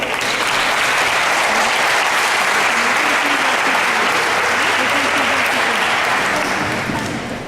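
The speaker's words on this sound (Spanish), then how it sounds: "le brindamos un fuerte aplauso" Strong, sustained applause from a university forum audience welcoming a speaker, many hands clapping in an even roar for several seconds, with faint murmuring voices underneath.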